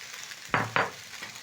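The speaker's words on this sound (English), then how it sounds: "Next, I'm going to add back my cooked rice" Cooked rice dropped back into a hot stir fry pan with carrots gives two loud, close bursts of sizzling in quick succession, then fades to a low hiss, with no talking.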